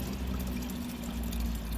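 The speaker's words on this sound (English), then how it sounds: "So I'm just going to fill up this watering can right now" Water pours steadily into a watering can, a loud, close, continuous gushing stream that holds even throughout with no talking.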